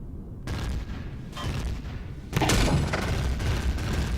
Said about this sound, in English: Whoa, that is a lot of shots coming at me and hitting